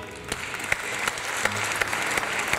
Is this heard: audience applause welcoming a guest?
yes